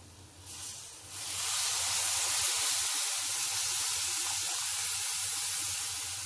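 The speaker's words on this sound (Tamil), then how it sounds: "இப்போ அதை கரைச்சி அந்த வெங்காயத்தில் ஊத்துறேன்" Tamarind water poured into sautéed onions in a hot pan for vatha kuzhambu, setting off a loud, sustained hiss and sizzle after a brief quieter start.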